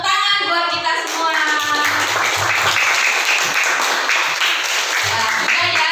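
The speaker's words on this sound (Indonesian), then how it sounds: "tepuk tangan buat kita semua" A classroom of children clapping together in a loud, brisk burst that keeps going throughout, with a teacher's voice and children's voices mixed in at times.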